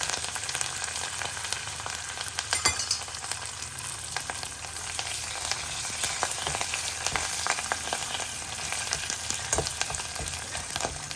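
Wet curry leaves sizzle and crackle in hot oil in a large pot, with a continuous loud frying hiss broken by sharp spattering pops and occasional stirring.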